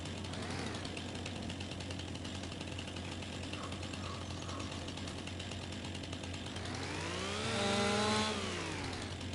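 A chainsaw in Farming Simulator 25 cuts into a big tree, its steady buzzing drone running under game ambience before the pitch rises and falls in a final surge.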